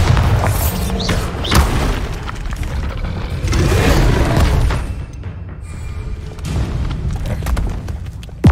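Bombarda spell explosions in the video game Hogwarts Legacy: several heavy, booming blasts in an uneven sequence, loud and close, with rumbling tails and no talk.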